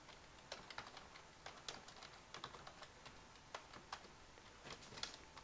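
A password is typed on a computer keyboard in a quiet room, with soft, uneven clusters of clicking keystrokes and short pauses between bursts, faint and close.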